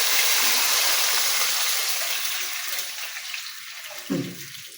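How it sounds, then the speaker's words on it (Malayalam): Water from a cup poured into hot oil with fried onions for a prawn biryani, a loud steady rushing sizzle that slowly eases, ending with a short burst near the close. "ഉള്ളി പൊരിഞ്ഞ് എണ്ണയിലേക്ക് ഒരു വാട്ട വെള്ളം ഒഴിക്കും"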